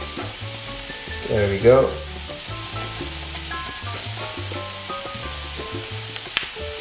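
Food with black pepper sizzling and frying in a pan while being stirred, a steady crackle with a brief louder scraping stir early on, and a short spoken remark over it.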